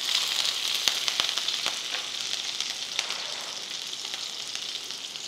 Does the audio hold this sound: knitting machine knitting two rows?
no